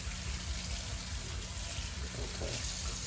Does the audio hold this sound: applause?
no